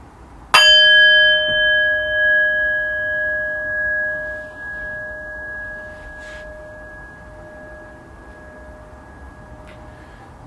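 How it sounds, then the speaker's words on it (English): A meditation bell is struck once, giving a sharp clear ding that rings on with a long, slowly fading tone into near silence. "in just a moment I will ring the bell once, ending our second round of meditation"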